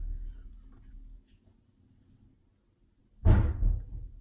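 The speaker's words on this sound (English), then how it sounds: "That's my sister getting home, banging the door." A door banged shut in a house as someone comes home: one loud, close thud with a short rumbling tail that breaks a quiet stretch of faint background noise.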